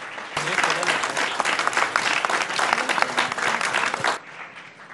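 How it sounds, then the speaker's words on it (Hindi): Studio audience claps loudly to welcome Madhya Pradesh Chief Minister Mohan Yadav at an interview event, a sharp burst of dense applause that starts abruptly, holds steady and cuts off near the end. "जोरदार तालियों के साथ स्वागत"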